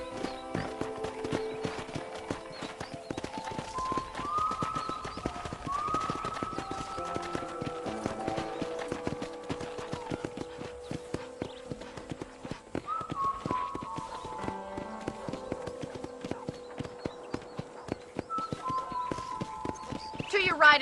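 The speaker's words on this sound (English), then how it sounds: "let's see if you can still ride a horse." Horse hoofbeats from Red Dead Redemption on Xbox One clop in a steady walking rhythm throughout, mixed with in-game music and voices talking.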